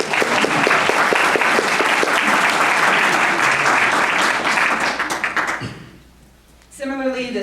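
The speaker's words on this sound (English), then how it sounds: "can we get a round of applause for how awesome that was?" A conference audience bursts into sustained, dense applause that holds loud for several seconds before trailing off, followed by a voice starting to speak.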